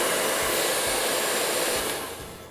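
A handheld blow dryer roars steadily and loudly at close range while drying a section of hair during a basic blowout, with no talking, tapering slightly at the end.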